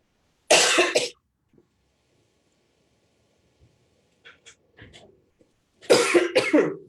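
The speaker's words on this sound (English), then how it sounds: "Oh, this cough, hope it goes away." Two harsh coughing fits, one near the start and a longer one at the end, separated by quiet with faint rustles and mouth sounds.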